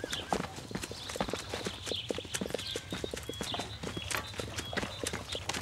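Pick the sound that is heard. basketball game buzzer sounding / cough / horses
horses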